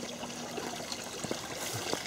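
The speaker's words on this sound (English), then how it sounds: "Here's the fountain, in case you're wondering what the water is." Water trickles steadily from a small decorative fountain, a soft continuous splashing close by with no voices.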